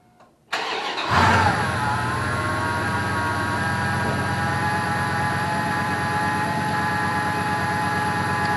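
A 1997 Ram 1500 work truck fitted with a new air intake cranks and fires, then settles into a loud, steady idle with a rough low drone, close by with no talk.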